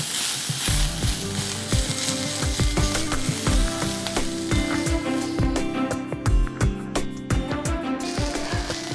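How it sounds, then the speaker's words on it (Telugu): Long-sliced onion frying in oil in a pan, a steady close sizzle with repeated sharp scraping and clicking of a spatula stirring against the pan throughout, no talking. "ఈ ఉల్లిపాయలు ట్రాన్స్పరెంట్ అయ్యే వరకు వేయించుకోవాలి"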